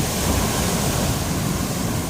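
Big ocean waves crash and churn on Baybay Tiwi beach in Albay, a loud, dense, continuous roar of surf with no voices.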